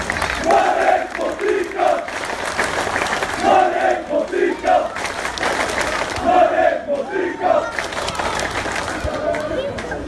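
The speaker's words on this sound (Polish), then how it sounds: "Wielkie brawa, drodzy Państwo!" A crowd shouts and cheers loudly at a football club's team presentation for Hetman Zamość, with voices rising in bursts over a continuous roar of the audience.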